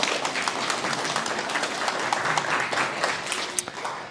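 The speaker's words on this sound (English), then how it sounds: "I think we can clap for them as well, right?" Audience applause at a guide dog school graduation ceremony, a steady dense patter of many hands clapping that holds evenly for several seconds with a few louder claps standing out near the end.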